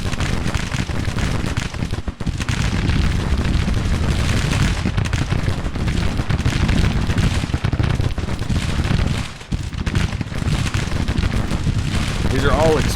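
Dense battlefield din of Civil War 12-pounder cannons firing canister alongside massed musketry in the Grand Tactician strategy game, a continuous loud rumble of overlapping blasts with scattered voices beneath.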